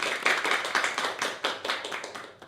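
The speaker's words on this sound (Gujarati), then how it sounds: "તાળીઓના ગડગડાટથી વધાવીએ" Audience applause for the winner of a student programme presented by B.Ed college students in Bhuj, a dense, steady burst of many clapping hands throughout, fairly close and without speech.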